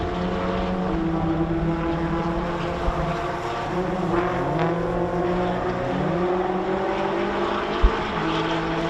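Race cars, including a Toyota 86, lap a circuit at the National Extreme Festival, giving a steady layered engine drone with shifting pitches from several cars at moderate distance and no voices.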